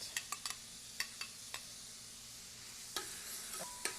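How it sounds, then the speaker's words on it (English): Onions sauté in melted butter for a spinach and cheese quiche, producing a soft, faint sizzle broken by sharp scraping taps of a utensil stirring the pan. "Add the onions and saute them until they are transparent."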